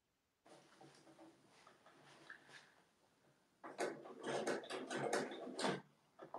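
Domestic sewing machine stitching a boxy bag, first a softer, uneven mechanical run, then a louder burst of rapid rhythmic stitching close by for the last few seconds.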